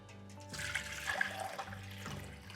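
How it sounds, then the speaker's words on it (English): Sugar water dribbling onto a kitchen counter during peach mango cider kit preparation, a steady close trickle and splatter lasting a couple of seconds over a low background hum. "I'm dribbling a little bit of sugar water onto the counter"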